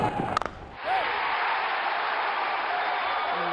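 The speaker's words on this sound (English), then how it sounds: "Crowd is enjoying every bit of this." Crowd at a T20 women's cricket match between India and Hong Kong, a few sharp knocks followed by a sustained swell of applause and cheering that holds steady.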